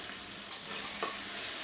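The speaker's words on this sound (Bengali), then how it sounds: "একটা টমেটো আমি দিয়ে ভালো করে কষায় নিব" Onion, ginger, garlic and tomato sauté in a hot pan, a steady close sizzle with a few scraping stirs, no voices.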